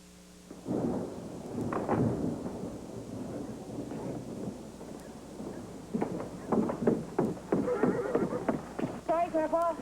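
Horse hooves clip-clop over a low rumble, joined by snorting and a short whinny near the end, with voices speaking throughout.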